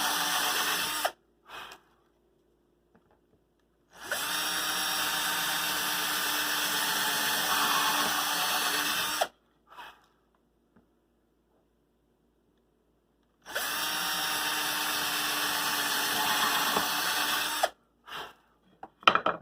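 Handheld power drill boring holes into a project case in three long whirring bursts separated by silences, with short clicks and bumps in between, close and alone.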